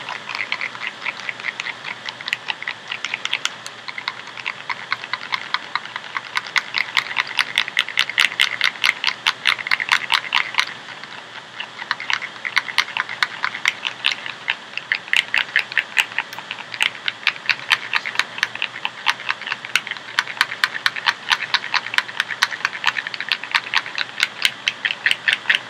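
L'Oreal Hi Color magenta highlight color being stirred in a bowl into a paste, a rapid, continuous scraping and clicking rattle of the tool against the container, close and steady throughout.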